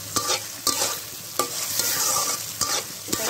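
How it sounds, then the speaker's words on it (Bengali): Chopped tomato, onion and slit green chili fry and sizzle steadily in a pan, broken by several sharp stirring scrapes of a spatula at irregular intervals, close and clear with no talk. "এই টমেটো কুচি এবং পেঁয়াজ কুচি এবং কাঁচামরিচ ফালিটাকে আমি একসঙ্গে সামান্য আর একটু ভেজে নেব।"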